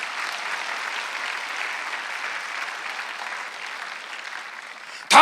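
A church congregation claps hard at a Korean Sunday worship service, a sustained even roar of many hands that holds steady for several seconds before a sudden louder burst at the very end.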